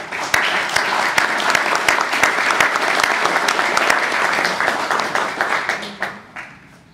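Sustained audience applause at the close of a lecture on the identity of Jesus Christ in the Gospel of Mark, dense steady clapping that fades out over the last second.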